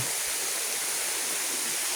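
A river on the way to Mother Falls, Montalban, Rizal rushes and flows in a steady, loud, unbroken roar of water with nothing else heard.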